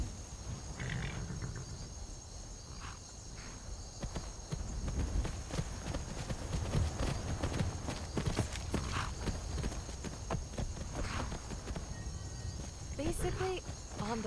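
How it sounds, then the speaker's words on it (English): Horse hooves clip-clopping at a steady walking rhythm while riding through Skyrim, with crickets chirping faintly in the background and a person talking over the hoofbeats. "Basically, on the back of a horse, traveling through the world."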